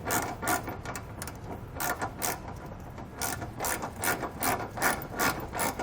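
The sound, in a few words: ratchet with 19mm socket tightening hitch bolts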